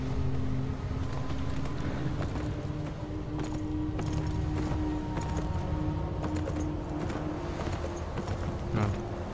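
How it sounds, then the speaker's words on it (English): A horse gallops hard in Beyond: Two Souls, its hoofbeats pounding in a steady, fast rhythm over a continuous rushing bed of movement and wind, close and unbroken throughout. "Come on, you need to sprint, horse."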